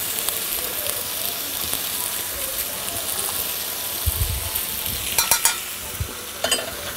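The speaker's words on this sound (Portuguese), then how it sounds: "Vamos mexer um pouco mais uma vez." Flour is stirred into a sizzling lamb and wine sauce, giving a steady frying hiss with soft scraping stirs and a few sharper clinks and thumps near the end.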